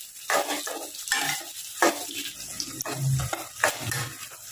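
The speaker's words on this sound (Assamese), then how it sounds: "আৰু এইখিনি এতিয়া কম জুইত অকণমান ৰঙচুৱা হোৱাকৈ ভাজিব লাগিব" Chopped onions sizzle over low heat, with repeated scraping stirs and clinks of a spatula against the pan at irregular intervals over a quiet frying hiss.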